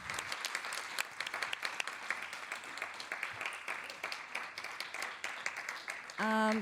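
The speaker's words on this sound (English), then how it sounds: "Let's give a big applause to our remarkable guest speakers." An audience applauds guest speakers at a conference session, a continuous crackle of clapping with scattered sharper claps, and a brief tone sounds at the very end.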